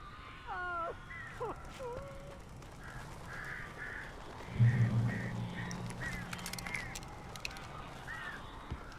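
Strange, harsh cawing bird calls in the video game Alan Wake, several repeated croaks and squawks over a low ambient hum, with a brief deeper sound midway.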